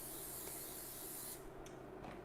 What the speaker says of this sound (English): bit of cooking spray.